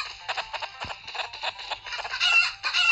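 Video game chickens cluck in short, choppy bursts, one after another, fairly close and bright, with no talking.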